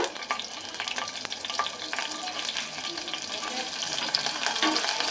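Green chillies stirred into a frying pan mixture, a continuous sizzle with scraping stirring strokes, close and fairly loud.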